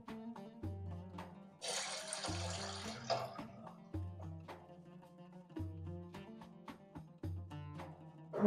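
Water pours into a pan for kheer, a short gush of about a second and a half set against soft background music.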